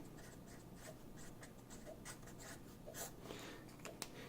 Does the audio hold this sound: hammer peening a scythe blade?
no